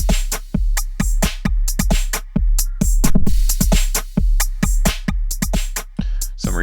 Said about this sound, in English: Then we've got some basic distortion.